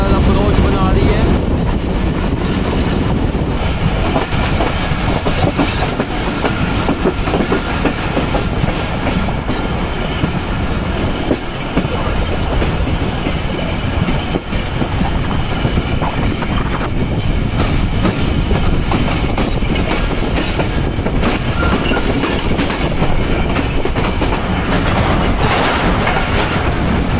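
Shalimar Express passenger train rolling into Rahim Yar Khan railway station, steady rumble of carriages and wheels with faint clickety-clack, continuous and fairly loud from start to finish, heard from on board.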